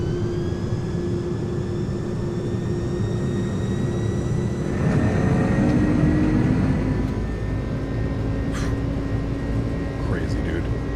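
A FedEx airliner's jet engines spool up toward takeoff power in Microsoft Flight Simulator, a loud steady roar with rising whine tones building midway, while someone talks over it.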